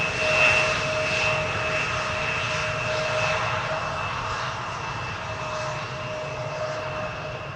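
An Embraer 170 regional jet flown for Eastern Airways passes at Schiphol Airport. Its engines give a steady, moderately distant roar with a high whine, fading slightly and then holding level.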